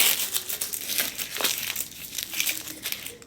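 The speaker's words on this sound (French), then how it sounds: "وكنلويها في ورق الطبخ بحال هكا" Close, continuous crinkling of baking paper being folded and wrapped around a sweet potato, with uneven bursts of rustling throughout.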